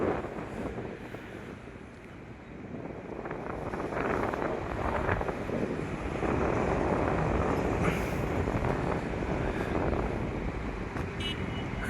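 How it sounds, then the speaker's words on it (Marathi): Strong wind blows by a river at Dhari Devi, a loud, continuous broadband roar of gusts buffeting the microphone that swells louder from about four seconds onward, with no talking. "वारा खूप आहे."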